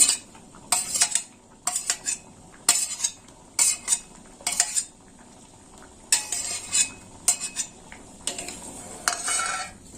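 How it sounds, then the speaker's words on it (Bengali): A spoon stirs thick dal with fried coconut in a metal pan, giving repeated scraping clinks in short irregular bursts over a faint sizzle, close and clear with no voices. "ডালটা একটু নেড়ে চেড়ে দেবো"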